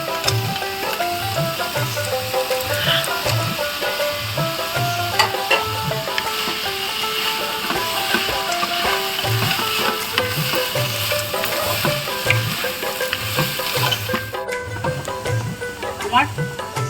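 Red amaranth greens frying in a pan with roasted peanuts and handmade lentil dumplings, a steady close sizzle with repeated stirring scrapes throughout, mixed with background music.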